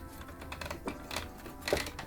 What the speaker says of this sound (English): Got the keyboard's a bit stiff.